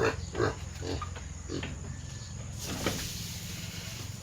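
A two-month-old pig grunts in a short run of close, rough snorts at the start, followed by steady farmyard noise.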